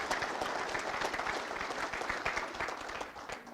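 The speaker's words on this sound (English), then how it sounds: "let's all give these guys a round of applause." Audience applause at a 2024 Michigan winter wheat grower meeting honoring wheat yield contest winners, a dense burst of steady clapping from a room of people that fades slightly at the end.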